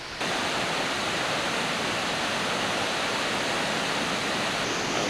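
A waterfall at Doi Inthanon in Thailand roars steadily and fairly loudly, a dense, even rush of falling water that runs unbroken throughout with no voices.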